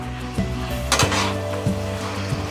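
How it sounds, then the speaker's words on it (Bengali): Chicken being sautéed in a pan, with a metal utensil scraping and clinking against the pan over a continuous sizzle and a steady background hum, close and moderately loud, with several distinct knocks. "এখন মাংসটাকে একটু কষাতে হবে, ঠিক আছে, মাংসটাকে একটু কষাই।"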